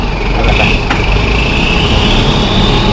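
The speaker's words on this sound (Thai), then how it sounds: "เสียงปลายท่อนี่ข้างหวานเหลือเกินนะว่า รถไถอ่ะ เสียงรถไถเลยดันดิน" A 2019 Fuso six-wheel dump truck with a 170 hp engine runs steadily, its engine and exhaust giving a constant loud rumble with a faint high whine above it.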